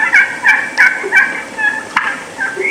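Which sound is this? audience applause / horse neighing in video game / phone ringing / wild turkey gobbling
wild turkey gobbling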